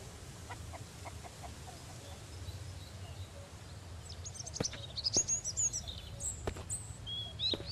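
A chicken in the survival game Mist Survival clucks and calls in short bursts, fairly faint against quiet outdoor ambience, growing a little busier toward the end.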